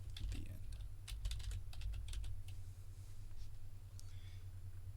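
Keyboard typing in a quiet room, with scattered clicks in short bursts over a steady low hum. The keystrokes are soft and fairly close, and no one speaks.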